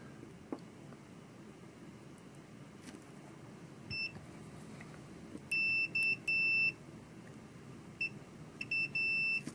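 Faint, short multimeter continuity beeps sound intermittently while testing a DJI battery board, a single chirp followed by a few clustered tones, over quiet background hiss.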